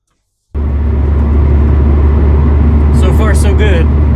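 Car rolling on new replacement strut assemblies, a steady loud engine and road rumble starting abruptly after a brief silence, with a voice speaking over it near the end.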